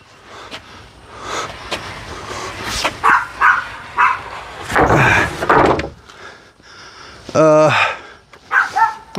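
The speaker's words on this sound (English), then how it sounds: "My dog's finally figured out where I am." A dog barks several times in short, sharp bursts at moderate distance, mixed with people talking and some background rustling, with a brief tonal squeak near the end.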